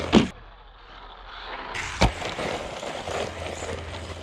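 An Arrma Grom RC car with a brushless conversion, running on a 3S battery, drives past fairly quietly, with a couple of sharp knocks and a steady rushing whir.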